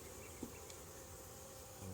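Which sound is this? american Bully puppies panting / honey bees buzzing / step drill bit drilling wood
honey bees buzzing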